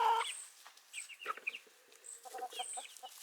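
Hen clucking in short irregular bursts, fairly close, with several clucks and squawky calls spread across a few seconds, no talking over it.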